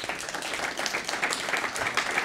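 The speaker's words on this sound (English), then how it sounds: "Now you can applaud." Studio audience applauding at the close of a televised 2022 congressional debate for New York's 3rd District, a dense, steady wash of many hands clapping throughout with no voices standing out.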